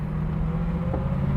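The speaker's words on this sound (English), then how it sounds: "And around the corner here. Some acceleration." A 1970 Chevrolet Camaro engine drones loud and close from inside the car as it pulls away out of a corner, a steady low throaty hum with no voices.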